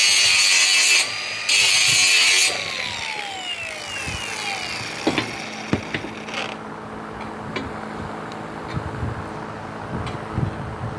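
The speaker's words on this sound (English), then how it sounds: "I'm gonna grind off here to somewhere here to grab onto the ground." Angle grinder cutting into steel on a fabricated bracket for a rear rack: two loud, steady bursts of grinding open the clip, then fade into scattered clanks and shop noise.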